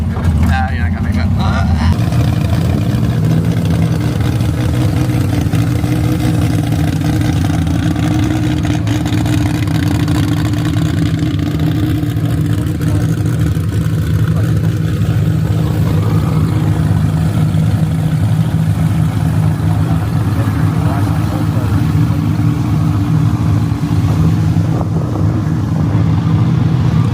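A Nissan 240Z S30 sports car engine drones loud and steady while racing, a continuous heavy roar heard from close inside the car, with a voice speaking over it.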